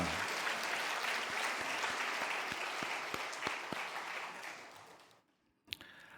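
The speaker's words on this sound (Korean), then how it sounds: "우리 웃음을 준 장로님들 향해서 한 박수 좀 합시다" A church congregation at a Sunday worship service in Guri Galmae applauds its elders in sustained, even clapping that slowly tapers off, ends in a brief hush, then gives way to a single sharp knock.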